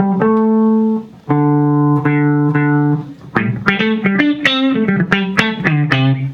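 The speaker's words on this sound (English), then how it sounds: "that's when you start getting the auto wah type of thing." An electric guitar plays notes and chords through a quacky, vowel-like auto-wah envelope filter (Walrus Audio Kangra) that sweeps with each pick attack, first held chords, then busier picking.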